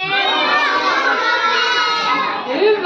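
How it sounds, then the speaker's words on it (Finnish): A group of children at a church gathering shout their own names all at once, a loud, continuous overlapping burst of young voices that fills the whole moment without pause. "kun mä lasken kolme, niin huutakaa jokainen oma nimi"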